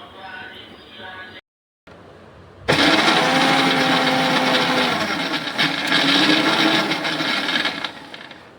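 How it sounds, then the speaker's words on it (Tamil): A mixer grinder grinds a keerai stem chutney. Brief talk comes first, then the motor starts abruptly and whirs loud and close for about six seconds before winding down. "இப்போ நான் வந்து இதை மாதிரி அரைச்சிட்டு அதுக்கப்புறம் அதை சேர்த்து அரைப்பேன்"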